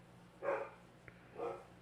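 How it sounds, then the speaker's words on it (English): Two muffled barks from a pet dog come from indoors, spaced about a second apart, with a soft click between them; moderately close and alone. "They've been in a bark fest today."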